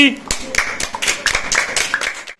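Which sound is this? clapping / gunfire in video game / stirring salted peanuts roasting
clapping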